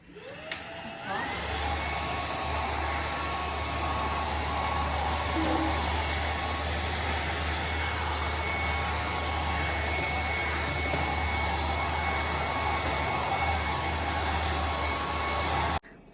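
A household vacuum cleaner starts up during house cleaning and runs with a loud, steady whining roar for about fifteen seconds before switching off abruptly at the end.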